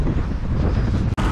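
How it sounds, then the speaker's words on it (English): Strong wind gusting hard across the microphone outdoors in The Colony, Texas, a loud continuous roar with a brief dropout near the end. "The wind is blowing so hard here."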